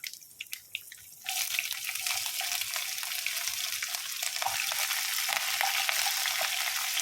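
Chopped green chilies drop into hot oil with curry leaves for an Onam lemon pickle. After a few light clicks, a loud, steady crackling sizzle bursts in and continues close up.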